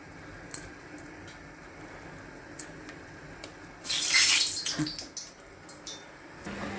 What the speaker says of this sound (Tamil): நல்லா கொதி வந்துருச்சு குழம்பு